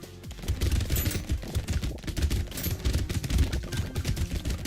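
SMG gunfire in the Brotato video game rattles without a break, a dense, loud burst of rapid shots that fills the whole stretch.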